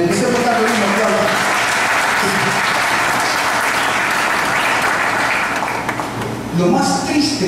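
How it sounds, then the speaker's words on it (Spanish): A church congregation breaks into sustained, loud applause that fills the whole stretch, with a few voices and cheers mixed in and a brief dip near the end before clapping swells again. "Empecemos a darle un aplauso."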